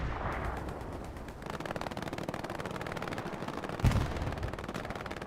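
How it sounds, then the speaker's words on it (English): An ME-109 fighter strafing the front line in Hell Let Loose, rapid machine gun fire rattling in long bursts at moderate distance, with a sharper impact near the end amid battlefield noise. "ME-109 flies above, tries to strafe the front line"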